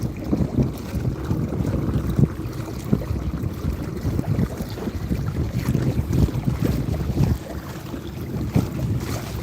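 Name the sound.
electric motor on modified kayak running at full power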